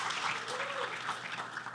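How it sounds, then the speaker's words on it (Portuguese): Podcast studio audience applauding a guest, a steady wash of clapping hands from a small crowd, even and sustained without pause or talk. "queria pedir uma salva de palmas no Ao Vivo Tem Isso, que legal, pro Black Chef"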